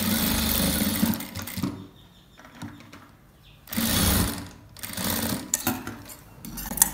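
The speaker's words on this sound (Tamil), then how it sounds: "வச்சுட்டு நல்லா ஓட்டி விட்டு தைச்சிக்கோங்க." A sewing machine stitches frock fabric for a box-pleat midi dress, whirring steadily in several bursts of varying length separated by brief quieter pauses, close up with no speech.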